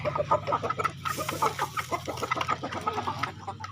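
Several chickens cluck repeatedly in a steady, busy stream nearby, with short overlapping calls, a rooster among them.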